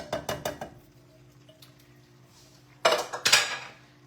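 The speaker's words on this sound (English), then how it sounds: "here's my little can strainer, and I'm just going to dump these beans right in here" Canned beans drop into a small metal can strainer in a quick series of clinks and knocks, then a louder wet clattering burst follows after a short pause.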